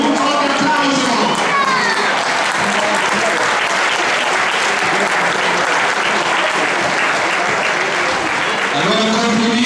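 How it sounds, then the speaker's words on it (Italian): A crowd gives loud, sustained applause at the presentation of the Treviso football youth squads, with voices heard beneath the clapping. "Un forte applauso!"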